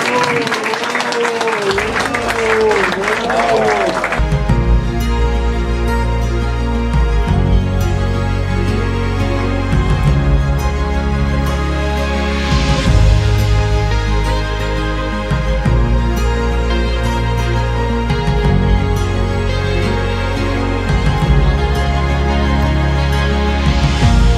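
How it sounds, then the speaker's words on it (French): A crowd at a long-term care home (CHSLD) event applauds the kitchen manager, Julie, with sustained, loud clapping that carries on steadily beneath music. "On va lui donner une belle main d'applaudissement à Julie."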